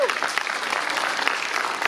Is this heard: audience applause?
yes